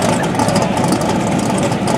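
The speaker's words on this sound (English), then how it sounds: "You hear him patting the gas saying, come on, let's get it." Mustang drag car engine at a drag strip, revving steadily as the driver pats the gas, a loud continuous roar filling the clip with no talk over it.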